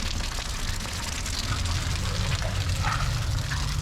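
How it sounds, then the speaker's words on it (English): Rain falls steadily in the Jalatlaco neighbourhood of Oaxaca, a constant outdoor hiss that holds without a break. "It's raining."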